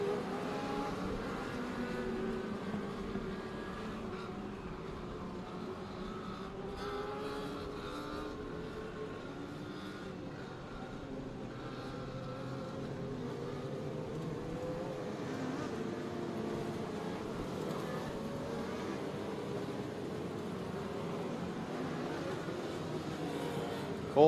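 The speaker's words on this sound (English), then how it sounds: "Cole Gerber's going to take his car off the racetrack" Dirt track race cars circle under caution, their engines a steady, distant drone that rises and falls slightly throughout. A faint murmur of crowd or commentary may sit beneath it.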